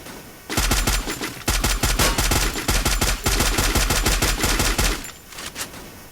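Rapid automatic gunfire from the video game Free Fire rattles in dense, loud bursts for several seconds, pausing briefly near the start, then trailing off into quieter game ambience.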